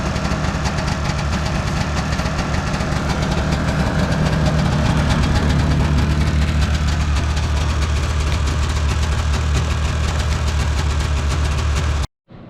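1977 Kawasaki Invader snowmobile engine idling steadily after a cold start, a loud, continuous low rumble with a knocking, vibrating edge that runs until it cuts off abruptly near the end.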